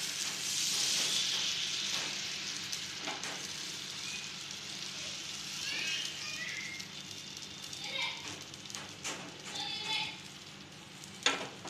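Ghee sizzles steadily on a hot pan while a leaf-wrapped Kokni sweet called perwe is being prepared, a continuous crackling hiss with a few soft clinks and scrapes over it.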